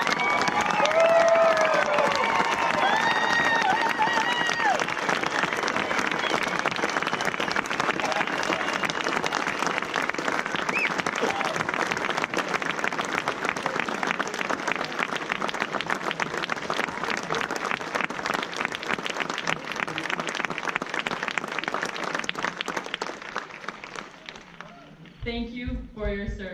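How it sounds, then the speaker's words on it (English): An outdoor crowd at the Mount Rushmore evening lighting ceremony applauds in long, dense, sustained clapping that fades and thins out near the end. "Let's show how we feel about them with another round of applause."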